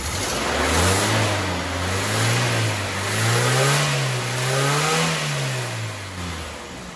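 Toyota Hilux engine revved several times, its low droning note rising and falling in slow waves, fairly close and moderately loud with no voices.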